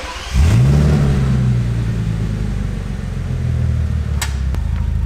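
Bentley Continental GT with an aftermarket exhaust cold-starting: a loud starter bark that settles into a deep, steady idle rumble close by, with a couple of sharp metallic clicks near the end.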